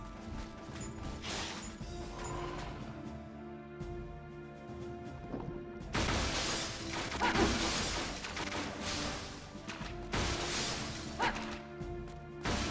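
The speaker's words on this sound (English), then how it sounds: "I guess we need to kill these things before they completely break every glass panel" Glass panels shattering in the video game Onimusha 2, loud crashing bursts of breaking glass over steady game music, with a heavy cluster of smashes in the middle and more around the end.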